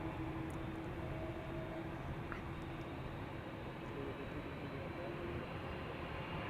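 A TUI Boeing 787-8 Dreamliner departing from the Polderbaan runway at Amsterdam Schiphol produces a broad, steady jet roar that holds evenly throughout at moderate distance.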